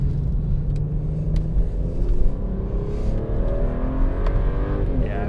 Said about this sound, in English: You can probably hear that pretty nice induction sound as well.